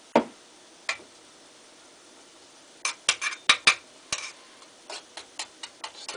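A spoon stirs homemade cayenne salve in a pot, giving sharp isolated clinks at first, then a quicker run of close, bright taps and scrapes against the container, with no talking.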